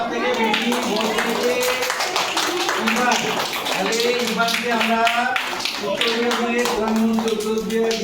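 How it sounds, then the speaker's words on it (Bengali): Schoolchildren in a classroom clap together after a mock children's parliament election. The dense, sustained applause is close and mixed with overlapping young voices throughout. "হাততালি দাও সবাই।"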